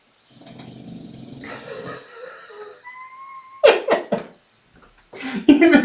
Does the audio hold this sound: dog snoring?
yes